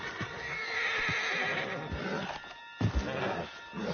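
A horse neighs loudly in a PS4 game, a long whinny followed by snorts and a few hoof clops, with game sound around it.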